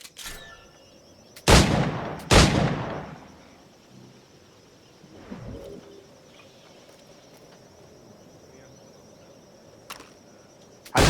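Flintlock pistol shots ring out in a video game, two loud, sharp cracks in quick succession followed by fainter reports later, over a quiet ambient background of insects and birds.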